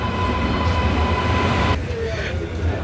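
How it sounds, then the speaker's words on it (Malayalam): The Tiruchirappalli Intercity Express rumbles along in a steady, loud roll heard from inside the coach. A faint tone runs under the noise and fades partway through. "തിരുച്ചിറപ്പള്ളി ഇൻ്റർസിറ്റി എക്സ്പ്രസ് ആണ് ഈ കിടക്കുന്നത്."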